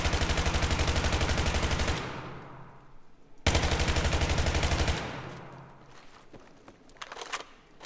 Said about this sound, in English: Let's empty this mag.